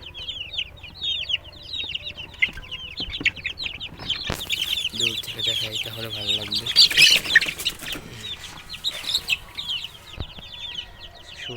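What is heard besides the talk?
chickens clucking in a coop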